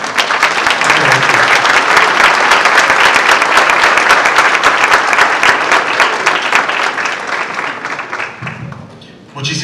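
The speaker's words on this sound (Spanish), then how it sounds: "Un aplauso." An audience at an academic lecture event gives sustained, loud applause, a dense wash of many hands clapping that fades slightly near the end before a brief swell.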